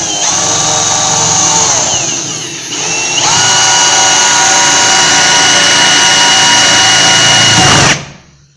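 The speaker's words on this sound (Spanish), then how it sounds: "vamos a proceder a perforar" A drill bit boring through acrylic sheet, a loud steady high-pitched whine with a gritty cutting edge that dips briefly in the middle, then resumes evenly before stopping abruptly near the end.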